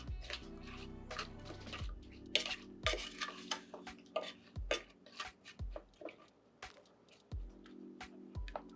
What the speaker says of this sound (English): We're just gonna stir this to get the juices to release.